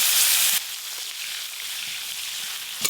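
Chopped tomatoes sizzle in leftover fish-frying oil with whole cumin, a bright steady hiss that flares loudest right as they hit the pan, then settles into a continuous even frying sizzle.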